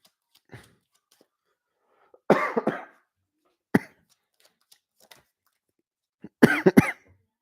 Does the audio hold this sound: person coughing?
yes